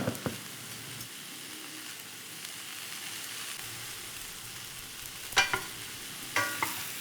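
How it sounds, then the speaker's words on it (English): Leeks frying in a frying pan to soften, a steady close sizzle with occasional sharper spitting pops and a couple of stir or utensil knocks. "get the leeks into the frying pan. We do this basically to soften them"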